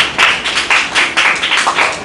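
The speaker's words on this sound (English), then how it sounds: "A healthier round of applause," A small group claps in a classroom during a teacher workshop, several sharp, close, slightly uneven bursts of hand claps following one another over a couple of seconds, with no talk.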